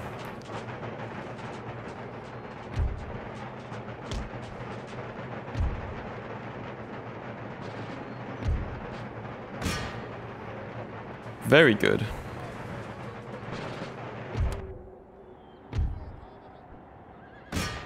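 Cannon artillery booms across a battlefield in Empire: Total War. Several heavy, distant-sounding shots land at irregular intervals under steady battle noise and a horse whinny, and a voice speaks briefly.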